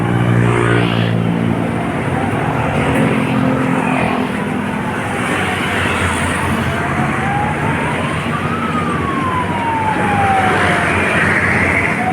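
A wailing ambulance siren rises and falls at a distance over steady traffic and street noise on Roxas Boulevard, growing more noticeable midway through.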